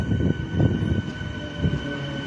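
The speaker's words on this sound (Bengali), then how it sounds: "ট্রেন কিন্তু এবার এখানেও একটু স্লো হয়ে গেল" A train slowing down runs with a steady low rumble and a few heavier thumps from the wheels, moderately loud, with no voices.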